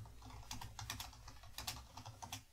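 Fingers type quickly on a computer keyboard, a close, faint, uneven run of key clicks lasting a few seconds with no talking.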